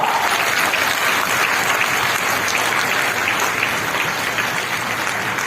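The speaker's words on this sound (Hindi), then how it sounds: "और बहुत ही जोरदार तालियां बजाएंगे" A large audience at a women's health care event gives loud, sustained, thunderous applause, with dense clapping throughout at a steady level.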